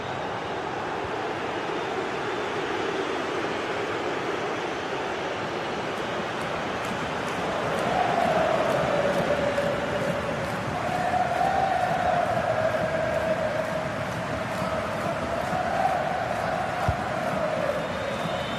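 Stadium crowd noise in a football video game, a broad roar that swells midway into a rising, wavering chant and then holds at that louder level, distant and unbroken.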